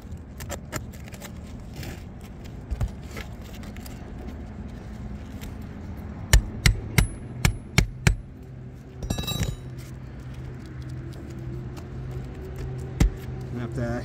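A hammer drives a popped roofing nail down beneath a shingle on a roof: a quick run of five or six sharp, fairly close strikes, followed later by one lone knock over steady outdoor background noise.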